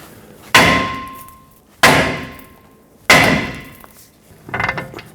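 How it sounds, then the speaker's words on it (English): Three sharp, ringing metal hammer strikes on a steering knuckle to free the lower ball joint stud on a 2003-2012 Chevrolet Colorado 4x4, evenly spaced and close, each decaying into a brief ring, followed by a softer clatter. "Leave this on a few threads so we can tap the knuckle, separate the stud from the knuckle."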